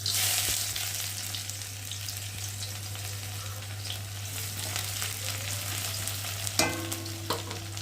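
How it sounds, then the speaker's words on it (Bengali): Onions go into hot oil in a wok (kadai) just used for frying fish, producing a loud, continuous hissing sizzle over a low steady hum, with a couple of sharper utensil clatters toward the end. "কড়াতে তেল দিয়েছি তেলটা গরম হয়ে গেছে আর এখন আমি পেঁয়াজ দিয়ে দেবো"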